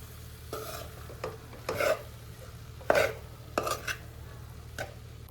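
Leftover rice is mixed into South Indian style fried rice in a pan, with a spatula scraping and clinking in uneven bursts over a faint sizzle, nearby and without talk.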